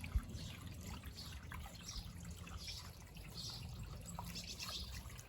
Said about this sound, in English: and my lovely new fountain